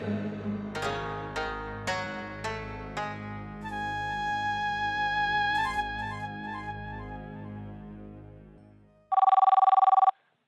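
A telephone bell rings in a series of bright, sharp rings that blend into a sustained tone, then stops before a short, loud electronic ringtone burst, with no voices.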